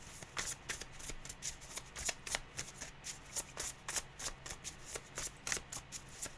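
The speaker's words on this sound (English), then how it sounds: "Let's pull a couple more cards." Tarot cards are shuffled continuously by hand, a close, rapid run of crisp riffling flutters repeating steadily with no talking.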